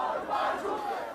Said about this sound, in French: une foule de manifestants dénonçant la politique zéro Covid du gouvernement était descendue dans la rue